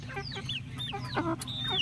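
Three-month-old chickens on a small farm cluck close by in a quick run of short, overlapping calls.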